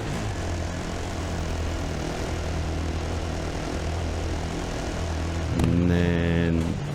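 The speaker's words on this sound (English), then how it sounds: "Yeah, lead the way, helicopter." A helicopter drones steadily overhead above a desert Dakar Rally quad stage, a loud, constant engine and rotor hum that swells briefly near the end as it passes closer.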